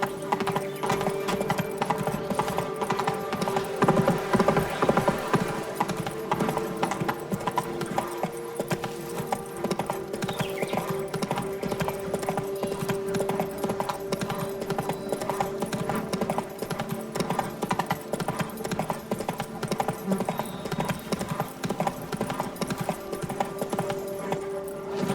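Roach, Geralt's horse in The Witcher 3, gallops with a steady, continuous drumming of hooves, with a faint whinny, under a bed of game music and ambience throughout.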